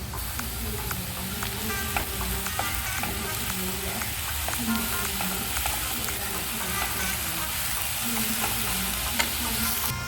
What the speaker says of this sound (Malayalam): ഇനി ഇതിലേക്ക് പാകത്തിനുള്ള ഉപ്പ് കൂടി ചേർത്ത് ഒന്ന് മിക്സ് ചെയ്ത് കൊടുക്കണം.